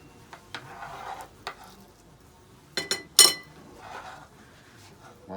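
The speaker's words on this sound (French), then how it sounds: "dans du beurre, je vais mélanger donc" A pan of stuffing, mixed with parsley and shallots, is stirred in butter, giving sparse scraping and clinking knocks with one sharp metallic clatter near the middle, set against a quiet background.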